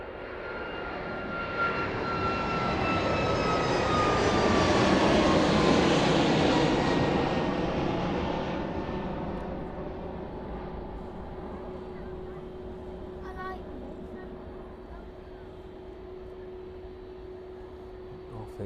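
An aircraft takes off at East Midlands Airport in the evening and climbs away, a roaring jet engine swelling to a peak then slowly fading into a distant steady drone, with a little talk over it.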